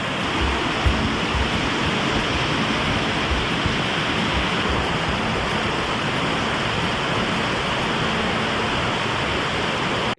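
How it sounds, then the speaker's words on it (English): Small waterfall beside a hiking trail in the Columbia River Gorge, a steady loud rushing splash that holds even and close throughout with no voices. "I think there is a small falls here, a little falls."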